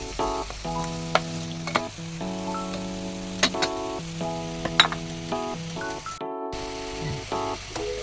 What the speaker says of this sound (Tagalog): Gisa-gisa muna natin.